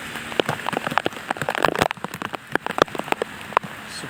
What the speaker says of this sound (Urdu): تو آپ کو زیادہ آواز آ رہی ہوگی بارش کی، کیونکہ وہ شاپر ہے تو اس کے اوپر ٹکراتے ہوں گے قطرے وغیرہ.